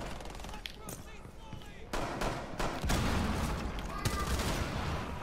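Rapid bursts of close, loud gunfire ring out in a Rainbow Six Siege match, growing denser toward the end, with faint voices talking underneath.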